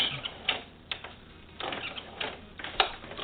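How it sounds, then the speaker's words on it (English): A sewing machine running a back stitch, with short bursts of rapid mechanical clicking and ticking separated by brief pauses, close and moderately loud, no voices. "just sew to the end of it, which is right there, which I'll do a back stitch"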